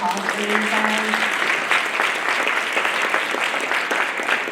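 A crowd at a Social Security talk breaks into sustained applause, a dense, even patter of many hands clapping close and loud, with a bit of voice at the very start.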